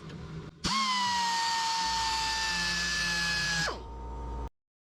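A power sander spins up sharply with a high, steady whine while 800-grit sandpaper works over a worn step plate, runs for about three seconds, then winds down and cuts out into silence.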